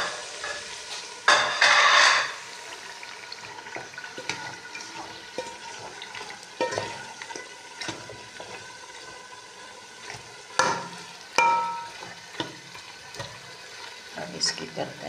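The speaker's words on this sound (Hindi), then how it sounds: "आप डालेंगे इसमें गोश्त जो मैंने धो के रखा हुआ है।" Washed meat goes into hot masala in a pan, bursting into a loud sizzle, then frying on steadily while a spoon scrapes and stirs with occasional clatters against the pot.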